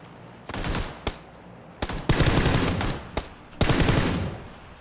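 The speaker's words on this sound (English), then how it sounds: "Every shot that I hear is a little bit off to the left or right." Gunfire in PUBG: several loud, close bursts of rapid shots, each sharp crack trailing into echo, with short gaps between the volleys.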